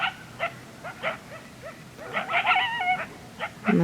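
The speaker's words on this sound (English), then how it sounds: "And that right behind me is Starfish Prime, my dog." A pit bull gives short yips and barks that rise into high whimpering whines, close and fairly loud, near a fence on a rural property.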